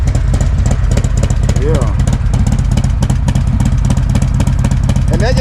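A Harley-style motorcycle with a 117 engine and a Feuling cam revs loudly and close, with a steady, throbbing rumble. A brief voice is heard over it.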